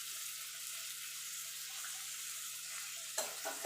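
Chopped tomato with a little salt frying in a pan, a steady close hiss of sizzling, then a few louder scraping stirs at the end.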